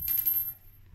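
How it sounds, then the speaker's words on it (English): A ring drops onto a hard surface in a single short, bright metallic clink that rings briefly and fades, close and quiet with no talking. "the sound of the real gold ring versus the stainless ring."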